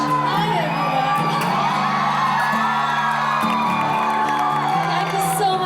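A large crowd at a dance show in New Zealand whoops, shouts and cheers loudly and continuously, with children's voices mixed in and music playing underneath.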